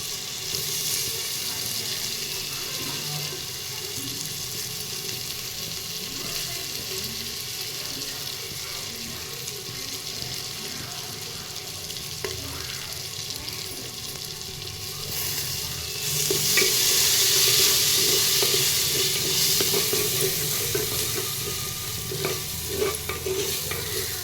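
Potatoes frying and being stirred in a pan for an eggplant, potato and tomato curry, a steady sizzle with scraping stirs that swells louder partway through, no talking.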